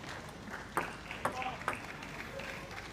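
A table tennis ball cracks back and forth in a quick rally of about three sharp, evenly spaced hits between Feng Tianwei and Kasumi Ishikawa at the 2014 Japan Open, with crowd noise and commentary underneath.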